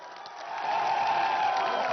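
A crowd in Gorakhpur bursts into applause and cheering at a live election debate event, swelling quickly into a steady, loud roar of clapping.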